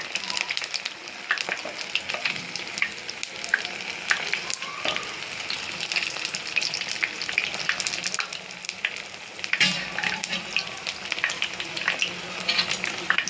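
Pineapple jalebi fries in oil on a gas stove, a continuous bubbling sizzle with crackles throughout and a few soft knocks as pieces are turned.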